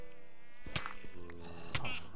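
Mosquitoes in the game Hexxit, in the Twilight Forest, give two short, close buzzing bursts over a steady low game ambience.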